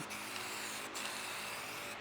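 A steady, hissing paint spray runs continuously onto a car panel, close and fairly loud, with brief dips in the hiss about every second as the stream pauses and resumes.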